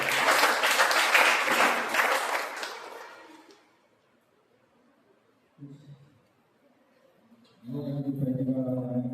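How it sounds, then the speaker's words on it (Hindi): A congregation at a Father's Day church service bursts into loud, dense applause for a few seconds that fades out, followed by quiet and then a voice speaking. "आइए उस पवित्र परमेश्वर के लिए एक बार जोरदार तालियां मारें"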